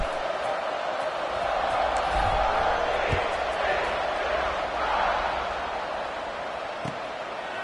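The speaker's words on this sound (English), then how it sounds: "this crowd is buzzing after that last score" A football stadium crowd in a TCU college football game buzzes after a score, a steady, dense roar of many voices swelling and easing slightly, with a few faint thumps within it.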